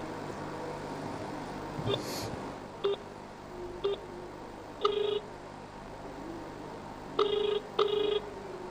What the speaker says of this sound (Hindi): मैं अगर यहाँ से अभी एक मिस कॉल दे रहा हूँ